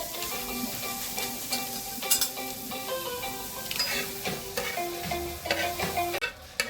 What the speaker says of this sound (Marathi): छान भाजून घेते माझा कांदा आणि त्याच्यासोबत हिरव्या मिरच्या पण टाकते.